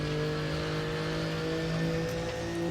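A GT3 race car in the RaceRoom racing game holds a steady, loud engine drone at constant revs, with no other sounds.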